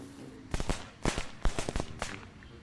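Small lady finger firecrackers go off in a string of sharp, close cracks, four or five quick bursts spaced about half a second apart, with no talk.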